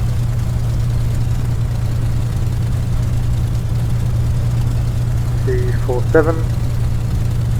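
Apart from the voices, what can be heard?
Spitfire aircraft engine idling in flight simulator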